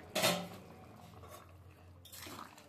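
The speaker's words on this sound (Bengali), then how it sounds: "এবার ঢাকাটা খুলছি" A metal lid lifted off a cooking pot while potato curry simmers, giving a sharp clatter near the start, a faint clink, then soft scraping and bubbling at close range.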